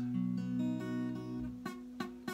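A strummed guitar B bar chord rings out, then three short choked strums follow, each cut off with a dull muted buzz.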